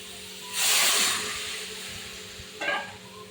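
Water splashes into a hot, dry pan over a high gas flame while cooking young pumpkin, giving a loud burst of hissing steam that slowly fades, followed by a second shorter sizzle.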